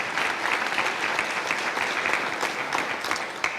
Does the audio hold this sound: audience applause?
yes